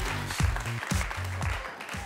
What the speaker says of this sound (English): Guys, give a round of applause to Awesomeness 3000.